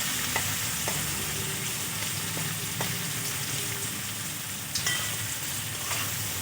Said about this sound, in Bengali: এখন আমি একটু সাইড করে দিয়ে দেবো 2টো তেজপাতা আর গোটা গরম মশলা, লবঙ্গ, দারচিনি আর এলাচ। একটু ভেজে আমি একসাথে মিশিয়ে নেব।